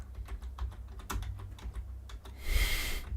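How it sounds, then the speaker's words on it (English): Quick, uneven typing on a computer keyboard, a close run of light clicks and taps ending in a louder burst of rattling keystrokes. "I have to do the typing exercise."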